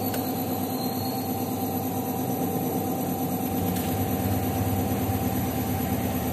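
A 2021 Honda Vario 125 ISS scooter runs on its center stand, its engine droning steadily and loudly at close range with a constant mechanical hum and no talk.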